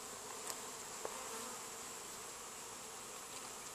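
Honey bees buzz around an open hive in a steady, dense, close hum that fills the whole stretch, with a couple of tiny clicks and no talking.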